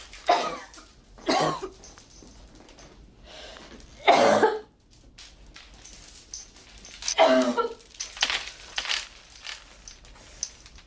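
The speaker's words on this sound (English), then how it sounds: "How long have you had that cough?" Several harsh, separate coughs spaced over a few seconds, close and fairly loud against a quiet indoor background, with some throat clearing between them.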